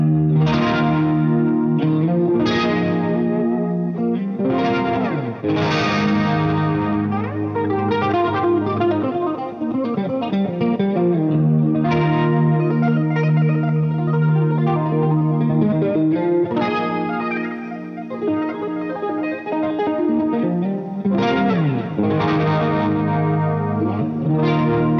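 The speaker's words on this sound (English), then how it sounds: "is the Dreamstar Chorus pedal." Electric guitar played through a Rocktron Dreamstar Chorus pedal from the Rocktron boutique line, loud shimmering chorused chords and single-note phrases ringing out with sustained swirling tails, no talking.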